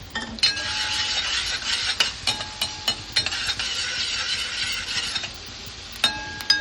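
Ginger, chili and garlic frying in hot oil, a steady broad sizzle broken by frequent sharp metallic clinks of a utensil against the pan, close and fairly loud.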